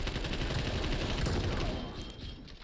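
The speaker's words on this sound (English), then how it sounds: "Just putting some shots down range." Continuous, dense gunfire in a Call of Duty: Cold War Ground War match, a loud sustained burst of automatic shots that stays strong before easing slightly near the end.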